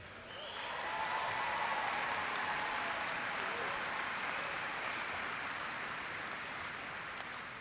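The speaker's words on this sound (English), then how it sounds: "Let's round of applause for Bryson." Applause at a spring 2022 BBA graduation celebration, a dense crowd clapping that swells within the first second and holds steady and loud to the end, with no talk over it.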